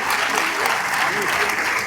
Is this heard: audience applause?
yes